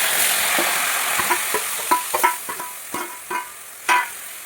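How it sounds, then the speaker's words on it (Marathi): Spring onion greens tossed into hot oil with garlic in a pan, crackling and sizzling with a series of sharp scraping stirs of a spatula, close and clear without talk. "आता ही कांद्याची पात ह्याच्यामध्ये टाकून घ्यायची आहे आपल्याला"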